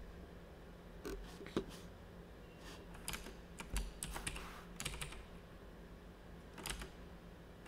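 Scattered bursts of computer keyboard typing at close range, quiet and uneven with pauses between clusters of keystrokes, over a faint steady hum.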